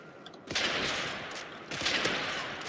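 Gunfire from a sniper rifle in the video game Modern Warfare 3, with two loud, sharp shots about a second apart, each followed by a ringing, noisy tail.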